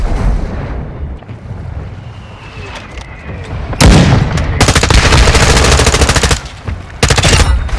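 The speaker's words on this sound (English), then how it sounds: "Friendly mortar strike inbound." Mortar strike in Call of Duty Modern Warfare 2 during a team deathmatch on Zarqwa Hydroelectric: heavy booming blasts with sustained rumbling explosions and rattling gunfire, loud and close, in a couple of long bursts.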